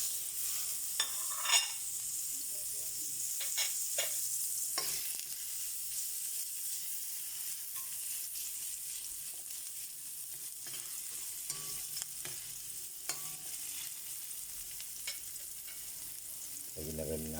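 Garlic sautéing in a pan, a soft steady sizzle broken by scattered clinks and scrapes of stirring, close and fairly quiet, with no voices.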